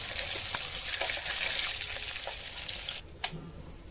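Hilsa fish pieces lightly frying in oil in a pan, giving a steady broadband sizzle that runs for about three seconds before dropping to quieter crackles and a few pops.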